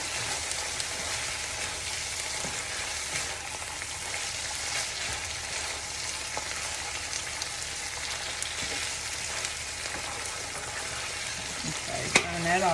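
Chili-seasoned meat for chili dogs frying in a pan, a steady dense sizzle and crackle running throughout with a brief clatter near the end.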